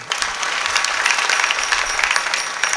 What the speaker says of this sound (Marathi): संत बावीकर ग्रामस्थांकरता एकदा जोरदार टाळ्या बनवा.